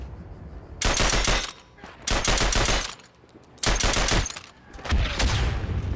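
A burst-fire weapon in a World War One shooter fires four loud, rapid bursts of shots at roughly one-second intervals, each burst fading into a rumbling echo before the next.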